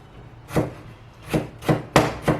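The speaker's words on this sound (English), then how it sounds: "I'm going to try to chop it up as fine as I can" A knife chopping coleslaw vegetables by hand on a cutting board, five crisp separate chops spaced irregularly, close and clear with no talking.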